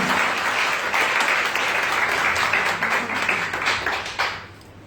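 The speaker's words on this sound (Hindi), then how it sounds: "क्यों ना उस महान परमेश्वर यीशु मसीह के लिए जोरदार तालियां बजाएं।" A church congregation at a Sunday service applauds vigorously, a full, even roar of clapping that holds strong before tapering off near the end.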